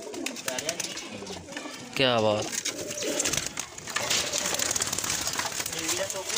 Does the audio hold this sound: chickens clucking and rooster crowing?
no